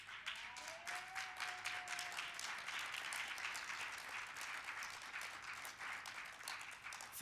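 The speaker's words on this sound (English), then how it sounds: "Team Cathsseta, please stand up so that they can give a round of applause." An audience at an annual general meeting gives a round of applause for a team, dense continuous clapping from many people, fairly distant and quiet, holding steadily with no speech over it.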